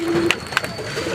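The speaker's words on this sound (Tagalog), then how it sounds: "Mga ibon nyo, oh." Pigeons or doves coo inside an aviary, a few short near calls over a low steady hum, with soft chirps from other birds.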